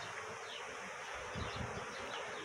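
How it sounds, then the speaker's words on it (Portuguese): A swarm of honeybees clustered together during a bee rescue, giving a faint, steady buzzing hum with a slightly louder swell midway. "E as abelhas estão agrupadas."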